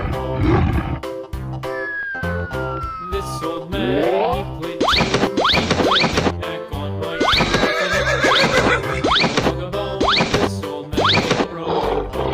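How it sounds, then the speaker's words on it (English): A horse neighs in a series of loud, close whinnies with rising and falling pitch, mixed with other animal calls and playful sound effects. "Horse."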